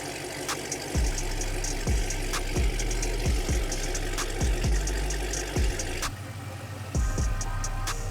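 Car engine idling in a garage, a steady low rumble with regular thumping pulses about once a second, close and continuous with no talk.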